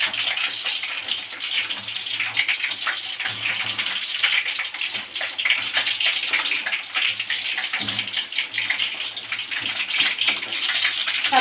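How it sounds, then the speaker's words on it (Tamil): Fish frying in a pan of hot oil gives a dense, continuous hiss like rushing water, steady and fairly loud throughout, with faint low knocks beneath and no talking. "மீன் வந்து ஒரு சைடு வந்து நல்லா வந்து ஃப்ரை ஆகிடுச்சு"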